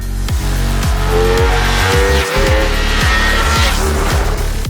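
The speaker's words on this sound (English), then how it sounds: "I've never seen these Rosso Corsa 2 tires struggle this much for grip" A powerful car on Pirelli Rosso Corsa 2 tires squealing for grip on a road, loud engine revving through repeated gear changes with tire squeal over it, close and continuous.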